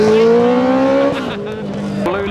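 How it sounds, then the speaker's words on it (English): A modified car pulls away from a car meet in Reading, its engine note rising loudly and then dropping as it shifts and moves off, close to the listener. "That car's just pulled out, gone after someone."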